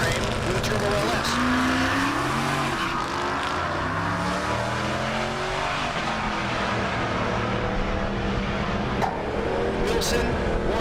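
Drag cars at an SRCA dragstrip in Great Bend, Kansas, a 1970 Chevelle and an International on a Silverado frame with a turbo LS, roar loudly with rising engine revs, while an announcer talks over the noise.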